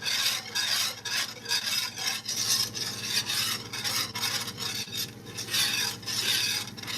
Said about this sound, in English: Now I remember why I don't use a whisk on camera. It's very loud.